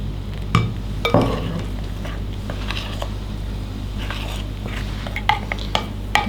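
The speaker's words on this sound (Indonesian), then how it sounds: "kita aduk sampai tercampur" A spoon stirs a tapioca flour dough mixture in a bowl, giving a continuous close scraping and swishing with occasional sharper clinks against the bowl.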